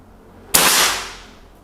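An air rifle fitted with a telescopic scope fires a single sharp shot, a loud close crack with a short decaying tail, during target practice and scope adjustment.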